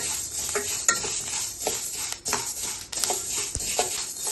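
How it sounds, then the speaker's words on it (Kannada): Crackling and sizzling of spices for sambar powder, including fenugreek, roasting on a low flame, with stirring scrapes in the pan and close, irregular pops and crackles. "ಈ ಥರ ಹುರ್ಕೋಬೇಕು. ಚಟಪಟ ಅಂತ ಸೌಂಡ್ ಬರಬೇಕು. ಸಣ್ಣ ಉರಿಯಲ್ಲೇ ಹುರ್ಕೋಬೇಕು."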